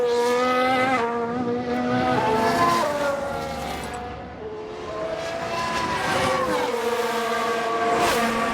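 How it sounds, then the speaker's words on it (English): An F1 Manager 2022 race car with a 1992 Minardi team, its high engine note sweeping up and down with tire squeal as it spins, loud and close, dipping briefly midway before roaring back. "Sounds like a spin"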